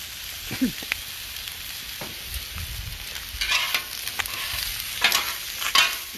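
Vegetables seasoned with ground cumin and chili powder sizzle on an outdoor flat top griddle while a spatula scrapes and turns them, with intermittent metallic scrapes over a constant frying hiss.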